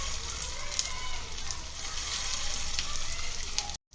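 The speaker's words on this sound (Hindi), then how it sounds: "अभी इसको 2 मिनट इसको फ्राई करेंगे, ज़्यादा नहीं फ्राई करेंगे।" Chicken malai kofta frying in hot oil makes a dense, continuous sizzle with crackling pops, close and steady before cutting off abruptly at the end.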